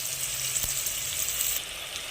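Garlic, onion and curry leaves frying in about 250 ml of oil in a kadai, giving a loud, continuous crackling sizzle close up with no voices.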